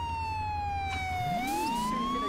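Police car siren in the video game Garry's Mod, a continuous wailing tone that dips and rises again over a rising engine roar, loud and alone.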